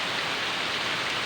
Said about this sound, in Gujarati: ધોધમાર વરસાદ પડી રહ્યો છે